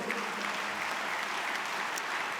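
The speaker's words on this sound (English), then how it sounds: "Please give a big round of applause for that." Steady applause from a convocation ceremony audience fills the whole stretch, a dense, even wash of many hands clapping at once without a break.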